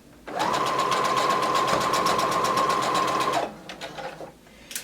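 Sewing machine stitching a skirt pocket seam at a 5/8 inch seam allowance, one loud, close, steady run of rapid stitching lasting about three seconds, then a few softer mechanical clicks.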